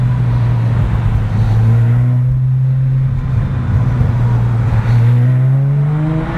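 Supercharged 4.1-litre Porsche 997 engine in a street car, revving hard through repeated full-throttle pulls, its loud steady drone climbing in pitch, easing and climbing again, close and dominant with no talking.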